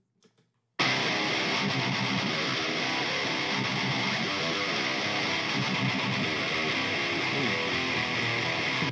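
After a second of near silence, a distorted metal guitar through a Swamp Thing speaker cabinet impulse response kicks in, thick and loud, with dense, sustained, chugging riffs for the rest of the clip.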